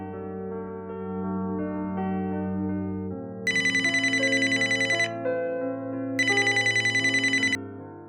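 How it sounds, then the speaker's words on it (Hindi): A phone call is placed and a ringtone sounds over a steady background drone. Two loud bursts of rapid, bright trilling ring, each lasting about two seconds, are separated by a short gap. "आरती को फोन करता हूँ।"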